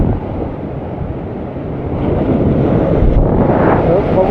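Sea waves and wind at Korlai Port, heard during bait fishing as a steady loud broadband roar of surf with wind buffeting the microphone, swelling slightly in the second half.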